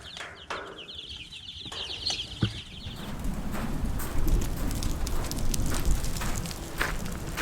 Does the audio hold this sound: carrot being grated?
no